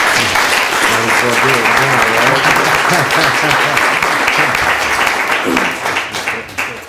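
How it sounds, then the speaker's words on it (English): A panel forum audience applauds loudly and steadily, dense clapping that tapers off toward the end while a voice talks underneath. "let's give them a round of applause"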